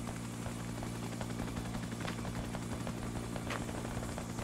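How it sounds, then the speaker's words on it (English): Steady, loud rotor drone of a helicopter in the video game Arma 3, with a constant low hum, occasional faint clicks over the top, no talking. "Get in the helicopter"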